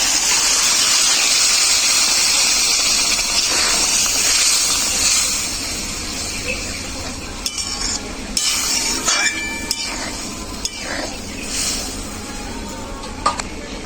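Fish head dal with potatoes bubbling in a pot, a steady hissing simmer at the start giving way to scattered clinks and stirring knocks from a utensil against the pan.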